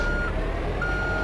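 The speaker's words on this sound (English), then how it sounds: "all beep whenever you back them up. Got the warning beeps" Reversing beeps from a Trashmaster garbage truck in the video game GTA III, a steady electronic tone with a short gap, over a constant low engine rumble.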